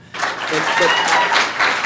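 Brief burst of applause from a room full of people, dense clapping rising quickly and holding steady for a moment.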